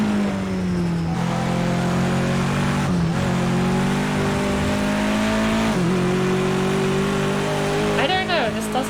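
A race car engine in a racing video game at the Knockhill circuit holds a loud, steady droning tone with brief dips as gears change, then a sharp rising rev near the end, continuous and close.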